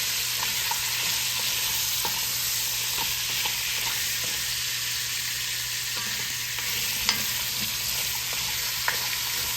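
Onions and other vegetables sizzling in a pot for a smothered beef dish, a steady loud frying hiss with occasional soft scrapes and clicks of stirring, close up and without talk.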